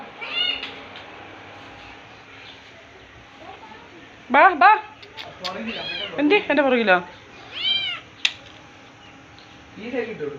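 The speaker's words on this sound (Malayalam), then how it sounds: "ബിസ്ക്കറ്റ് തിന്നിയല്ലാത്ത പൂച്ചയാണ്" A hungry cat meows repeatedly at close range in loud, drawn-out cries, while a person talks and calls to it between the meows.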